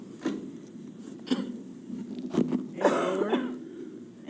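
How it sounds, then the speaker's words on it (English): Several separate coughs break out over a few seconds during a school board meeting roll call, close and sharp, the last one a harsher throaty burst. "Sorry, I was coughing."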